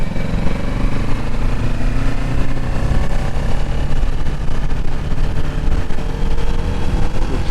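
A Kawasaki Ninja 650 motorcycle engine drones loudly and continuously nearby, a steady low rumble with a slight pitch rise and fall, with no talk over it.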